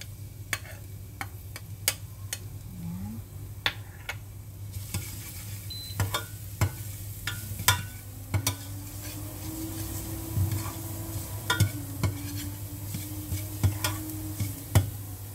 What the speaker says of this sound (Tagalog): Mainit na siya, nilagyan ko na rin ng mantika. So lagay na natin ang bawang.